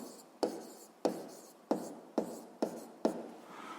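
Six crisp pen-on-paper strokes in steady rhythm, close and clear, as letters are written by hand during a Ukrainian 7th-grade physics lesson solving a problem on a block moving uniformly; no talking.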